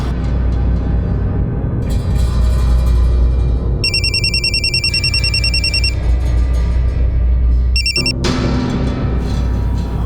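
A telephone ringtone chirps in repeated electronic trilling bursts, loud and close, over a steady low droning background.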